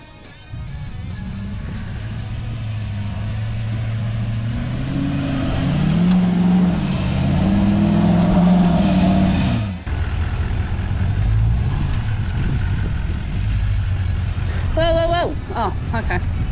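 A 600-horsepower 4WD climbing a sand track on tyres at 50 PSI: a loud, steady engine drone that rises as the revs climb, dips suddenly partway through, and carries on under talk from the people inside.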